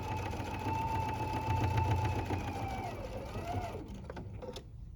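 A domestic sewing machine with a regular A or B presser foot whirs steadily as it sews across the bottom of a reusable fabric wine gift bag, a close, even mechanical hum that slows and fades out at the end.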